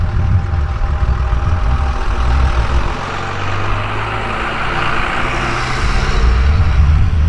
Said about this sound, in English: Got our loud pickup truck there.